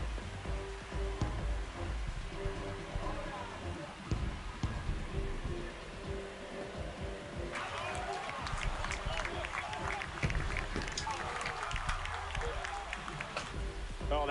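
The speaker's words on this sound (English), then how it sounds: "This crowd has really come alive." A baseball stadium crowd in MLB The Show 26, Athletics against Mariners, roars in a continuous wash that swells louder midway, with game commentary talking over it.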